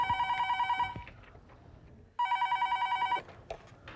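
A telephone rings in two bursts of rapid electronic trills, loud and close, with a short quiet gap between them where faint background sounds stir.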